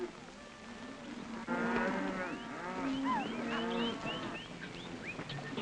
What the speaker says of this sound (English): Crowder, turn those cows.